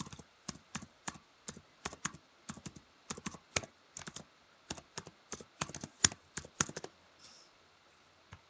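Rapid, uneven clicks of keys on a computer keyboard as an email address is typed in on a login page, a close, steady burst of keystrokes heard on its own before it stops.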